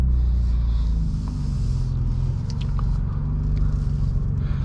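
A 2024 BMW M2 coupe on the road, heard as a steady low engine and road rumble from inside the cabin, loud and continuous with a few faint clicks and scrapes on top.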